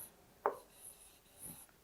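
A pen or pencil scratches briefly on paper while writing Hindi letters in a kindergarten lesson: one sharp stroke followed by a softer, fainter scrape, close and quiet with no talking.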